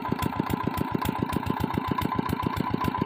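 A water pump engine running in a paddy field chugs at a steady, rapid idle, its regular low thumps repeating evenly and close by with no talk over it.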